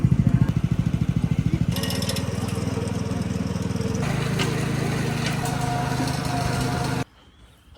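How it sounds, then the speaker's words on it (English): A powered lawn edger cuts a landscaping line to mark a curved retaining wall and flower bed, a loud steady small-engine whine with blade grinding running for about seven seconds before cutting off. "we're going to start with the edger"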